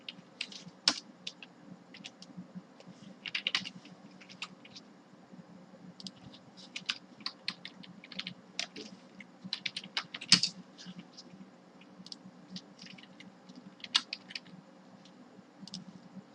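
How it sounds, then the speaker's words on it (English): Light tapping on a computer keyboard comes in irregular bursts of quiet clicks, close but soft, with short pauses between runs of keystrokes. "So let's type in some labels."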